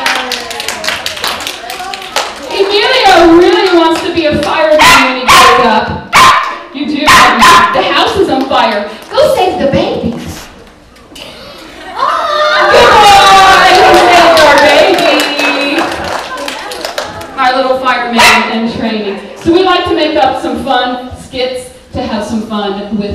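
Poodles performing tricks in a dog show bark and yip repeatedly in sharp, close bursts, mixed with clapping and a person talking throughout.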